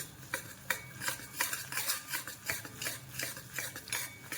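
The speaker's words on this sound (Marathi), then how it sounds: "आणि सारखं हलवत हलवत हलवत राहायचं याला।" Jaggery for sesame laddoos melts in a pan on low flame while a spoon stirs it continuously, making steady rhythmic scraping and rubbing strokes against the pan at close range, with no talk.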